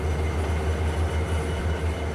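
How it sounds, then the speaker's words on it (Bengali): The Sundarban Express passenger train rolls into a Bangladeshi station platform with a steady, loud, low rumble and engine drone that holds evenly throughout, with no voices. "সুন্দরবন এক্সপ্রেস ট্রেনটি প্ল্যাটফর্মে প্রবেশ করলেই হয়তো আমরা সিগন্যাল পেয়ে যাব"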